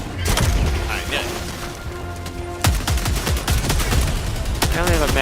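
Rapid gunfire in the shooter game Helldivers 2, with bursts of automatic fire, heavy booms and mechanical clatter packed densely together, loud and close throughout.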